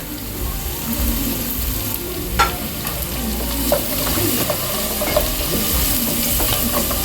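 Onions with salt and grated garlic stir-fry in hot oil, giving a close, steady sizzle with occasional soft clinks and scrapes of a spoon against the pan.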